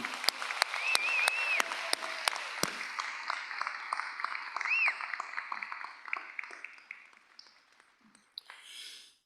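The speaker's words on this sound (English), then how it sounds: "Let's give a big applause to all those who helped you from that group" A crowd claps at a 2025 university commencement ceremony. The applause is moderately loud but sparse, with distinct separate claps and a few whoops and cheers, and it tapers off toward the end.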